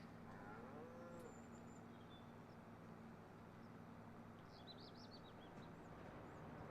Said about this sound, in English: These daggone cows.